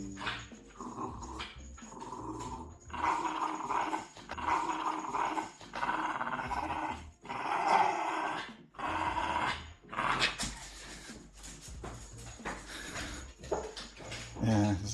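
A playful terrier growls in bursts of throaty rumbles mixed with yips, close by, while people keep talking over it throughout.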